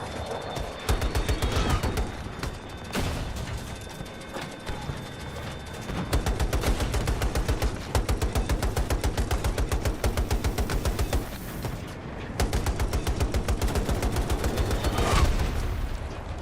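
A .50 caliber heavy machine gun in Battlefield 2042 fires long rapid bursts of sharp, evenly spaced shots, with brief pauses between strings and faint talk in the background.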